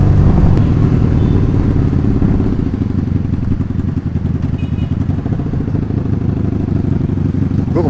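A 1984 Honda Magna 750cc V-twin motorcycle is ridden along a road, its engine a loud, continuous low rumble with steady throbbing pulses and rushing wind noise throughout, no clear pauses.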